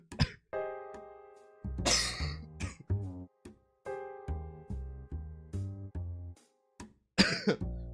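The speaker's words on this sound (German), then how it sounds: "es tut mir so leid mit dem Husten" A person coughs in a couple of harsh, close bursts, set among ringing tonal in-game sounds that come and go.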